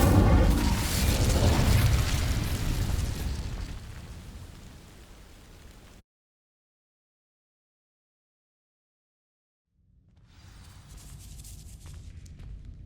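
Incendio fire spell igniting dry vines in Hogwarts Legacy, a loud roaring whoosh of flame and crackle that swells and fades over several seconds, then silence, then a quieter burst of rumble returning near the end.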